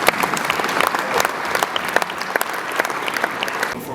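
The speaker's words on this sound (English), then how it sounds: "Let's give them a big round of applause." At a high school winter football banquet, the audience gives the 2014 Panther football team a round of applause: dense, lively clapping with sharp individual claps standing out, sustained for about four seconds.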